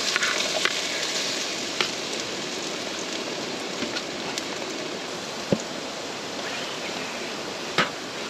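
Potatoes frying in oil on a Trangia camping stove during a rainy campout make a steady, dense sizzling hiss with a few sharp pops and crackles, and there is no speech.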